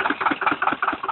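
A Zetor 25K tractor engine chugs on its first start, a rapid, even pulsing putter running close and loud.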